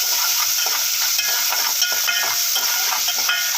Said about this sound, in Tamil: உப்பு நல்லா வதங்கட்டும்.